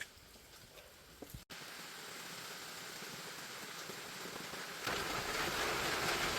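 Heavy rain pours steadily outdoors as a dense, continuous hiss that grows louder near the end, with a brief break and a couple of faint knocks early on.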